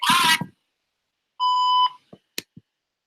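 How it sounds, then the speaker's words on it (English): Voicemail beep over a phone line: a short burst of noise, then a single clear steady tone lasting about half a second, followed by a few faint clicks. "Please leave a message at the beep."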